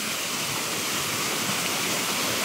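A waterfall at a Philippines travel spot sends out a steady, loud, broadband rush of falling water that fills the whole stretch evenly, with no voices.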